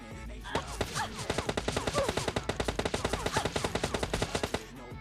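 Rapid automatic gunfire in the mobile shooter PUBG Mobile Lite during a prone firefight on a ridge, a dense stream of sharp close shots in quick bursts lasting several seconds, with no speech.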